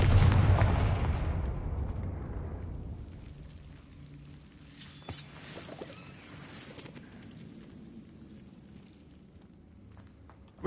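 Confringo fire spell cast in Hogwarts Legacy on PS5: a loud, booming blast at the start that rumbles and fades away over several seconds, with a small crack midway and a low lingering tail.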